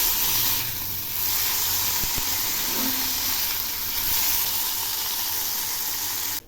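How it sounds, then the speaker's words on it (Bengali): Rice and green chillies fry in a pan for a chingri pulao, giving a steady, fairly loud sizzle and hiss that runs throughout, with a couple of faint clicks. "এবার আমি এগুলি একটু ভেজে নিচ্ছি।"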